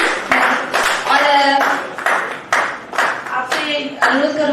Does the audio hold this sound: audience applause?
yes